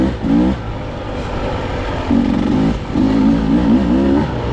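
A Beta 250 dirt bike at a 2023 demo day revs close by in short throttle blips, with the engine note climbing and falling over a steady idle and no talking.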